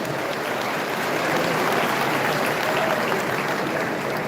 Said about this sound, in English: please help me give a big round of applause, a very big one, to the state chairman and the executive of the state